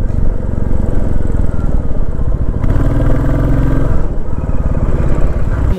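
A motorcycle rolls slowly along a busy fish-market lane near the estuary on a monsoon ride from Kolkata to Digha, its engine chugging loudly and close throughout, with clattering and road noise mixed in.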